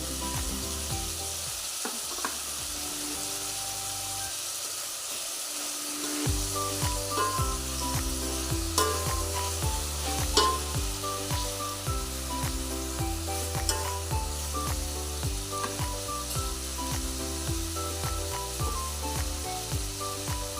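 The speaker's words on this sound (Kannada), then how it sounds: "to M T R garam masala ಹಾಕ್ಕೊತಾ ಇದ್ದೀನಿ" Ridge gourd curry fries in a pan with MTR garam masala added, giving a steady sizzle that runs through the clip beneath a louder, continuous bed of rhythmic background music.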